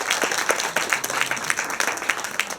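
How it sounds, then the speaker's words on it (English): A bookstore audience applauds a familiar local radio host at an evening event, dense steady clapping from many hands filling the room without a break, fairly close and even in loudness. "So let's give him a round of applause."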